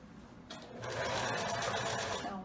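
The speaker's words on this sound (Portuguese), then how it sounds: "E agora é só fazer a costura reta." A sewing machine starts up and runs a straight seam on wide elastic, its fast rhythmic stitching close and steady after a short handling noise.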